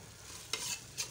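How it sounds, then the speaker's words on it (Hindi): A spoon stirs shami kabab mixture in a pan in a short, quiet burst: a faint sizzle underneath and two brief scraping strokes against the pan. "चम्मच हिलाना है।"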